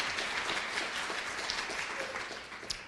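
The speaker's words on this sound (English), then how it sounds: "he does deserve a round of applause" Audience applause at a university learning event, a steady wash of many hands clapping at moderate, somewhat distant level, with a faint voice underneath.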